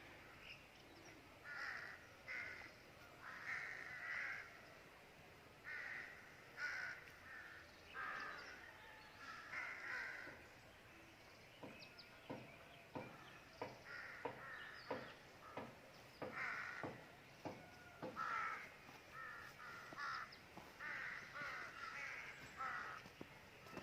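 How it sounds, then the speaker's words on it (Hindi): Crows caw repeatedly in the Murree forest, harsh calls coming in clusters from moderate distance over a faint outdoor background, with a quick run of sharp clicks or knocks in the middle stretch. "इस वक्त कौवे हैं इस एरिया में, क्रो"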